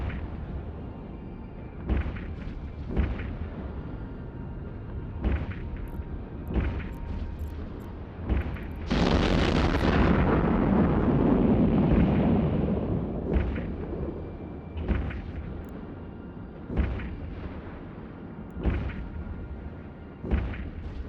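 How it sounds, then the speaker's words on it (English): Weapons fire and explosions in the spaceship combat game EVE Online: repeated sharp booming shots at a steady rhythm, with one long roaring blast near the middle, loud and close, and no talk. "When you are ready to engage the enemy, lock your target and fire."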